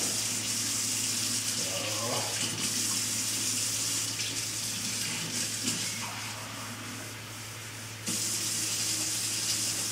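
Warm tap water pours steadily from a faucet into a measuring cup for activating yeast for whole wheat pita bread, a continuous close gushing that dips briefly before resuming.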